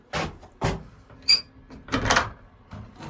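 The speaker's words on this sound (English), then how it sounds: "Out of the way and opening the door." A wooden treehouse door opens onto a cantilever deck, with several close knocks and rattles, a brief high squeak, and a longer scraping swing, all without speech.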